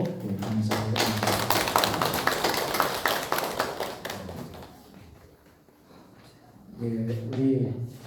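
Congregation clapping for a missionary after a Bible study lecture at a worship service, a dense run of claps that fades out midway, with spoken voices over the start and again near the end.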